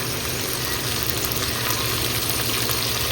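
Onions and tomatoes sauté with salt in a pan, giving a constant dense sizzle and crackle at a steady level with no pauses or voices.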